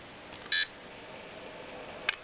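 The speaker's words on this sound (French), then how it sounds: "Donc là on voit ça fait un petit bip et le ventilateur se met en route." A Velleman LABPS3005D programmable power supply gives a short electronic startup beep, then a steady fan hum runs underneath, ending with a second brief faint beep.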